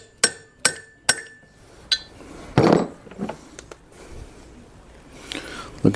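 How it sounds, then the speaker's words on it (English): Several sharp metallic taps from a small hammer seating a valve stem seal on a Honda J-series V6 engine, three quick strikes then a fourth, followed by scraping and handling noises. "Then I have a tiny little hammer. At the same time, I'm gonna hit this like 3 or 4 times."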